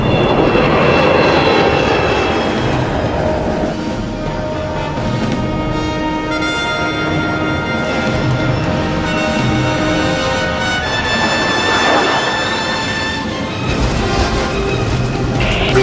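Avro Arrow jet aircraft climbing at full throttle to altitude, a loud, steady roar of jet engines with rising whine tones sustained throughout, heard alone without voices.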